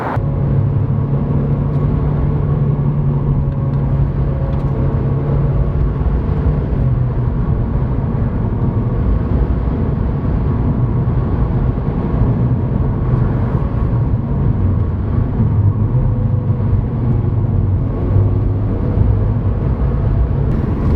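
A car with twin exit exhausts drives along, its engine giving a steady low rumble and drone from inside the cabin, with no talk.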